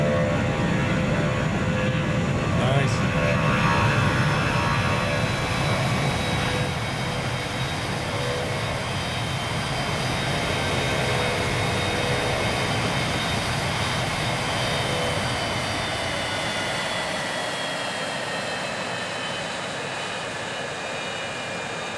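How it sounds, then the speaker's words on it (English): Turbofan jet engine roar from a Citation Max business jet in the game Transport Fever 2, a steady broad whine with high tonal hum holding for over twenty seconds, a single brief word spoken early. "Oh, the turbofan noises and that."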